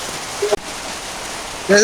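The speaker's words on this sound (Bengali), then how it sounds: "এই যে বাইরে বৃষ্টি বাইরে বের হওয়া যাইতেছে না" Steady rain hisses throughout, with a short tonal sound near the middle and a clearer one at the end.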